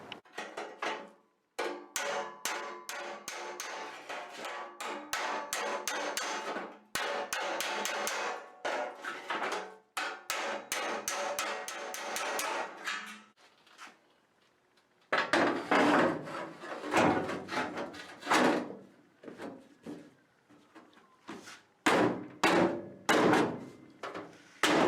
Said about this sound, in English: So I'm going to hammer on the ends of it and see if that'll help.